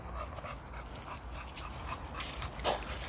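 A dog pants quickly and steadily, with a few soft whimpers and whines mixed in, close by on an outdoor walk past bushes, with faint ambient noise and no talk.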